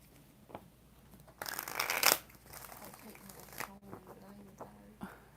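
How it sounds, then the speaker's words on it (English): Tarot cards are shuffled by hand in a few quick riffling bursts, the loudest near the start, close and fairly quiet with soft handling noises between. "we're going to get 3 shuffles"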